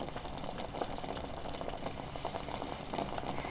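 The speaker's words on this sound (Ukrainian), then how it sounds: "Бачите, вже вона стріляє, булькотить" Thick zucchini spread bubbles and pops quietly in a pot, a continuous soft blipping simmer with occasional louder pops and no speech.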